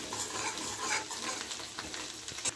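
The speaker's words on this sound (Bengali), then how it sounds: "কাঁচা লঙ্কা কুচি দিয়ে দিলাম দুটো" Chopped green chillies hit a hot pan with ginger, setting off a steady, close sizzle of frying with faint stirring scrapes throughout, no voices.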